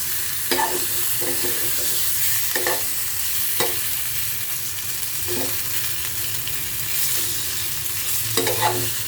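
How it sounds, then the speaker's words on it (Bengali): Hilsa fish masala stirred in a pan with green banana: a steady sizzle under scattered scrapes and knocks of a spoon against the pan, close and clear with no talk. "একটু পরপর নেড়ে দিবেন যাতে লেগে না যায়।"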